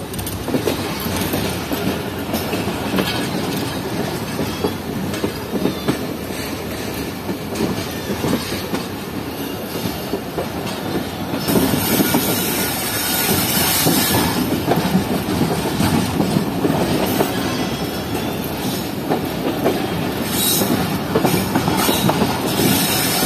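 A train runs along the railway track near Kothi Junction, a loud sustained rolling roar with clattering wheels and brief squeals, growing harsher and louder midway, with no voices.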